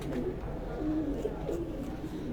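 Pigeons cooing on a rooftop, soft low repeated coos close by, with a faint background hum.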